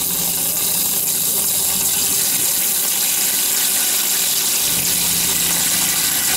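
Water gushes steadily from a motorhome shower head into the sink, a loud, close, continuous rushing spray with no talking.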